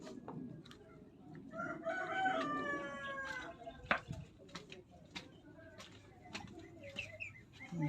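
A rooster crows several times in drawn-out calls amid other fowl clucking and scattered sharp noises, with a person talking nearby at a farm feeding time.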